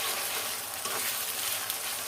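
Ginger garlic paste fries in a pan with a steady, close hiss of sizzling oil that carries on without a break and with no voices.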